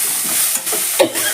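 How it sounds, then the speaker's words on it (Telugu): Green chillies and ginger fry in a pan for a carrot and beans stir-fry, giving a steady close sizzle with a few short stirring scrapes and clinks. "అదేవిధంగా మనకి పచ్చిమిర్చి కూడా బాగా వేగినాయి"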